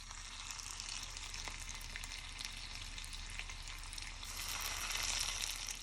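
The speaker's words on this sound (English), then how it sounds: "So once your pan is nice and heated with your oil, you're going to start pan searing your meatballs." Chickpea meatballs searing in a pan of hot oil over medium-high heat give a steady, close, crackling sizzle that swells slightly toward the end. No one speaks.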